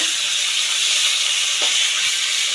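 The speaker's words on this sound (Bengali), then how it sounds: "ভালো করে আমি মুড়োটা ভেজে নেব" A hilsa fish head, rubbed with salt and turmeric, frying in oil: a continuous bright, hissing sizzle, close and even, with faint crackles and no speech.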